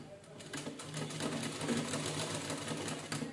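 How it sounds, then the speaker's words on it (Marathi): A sewing machine stitching a princess-style blouse runs steadily with a quick, even mechanical whir and patter, faint and close, with no voices. "शिलाई करून घेऊया."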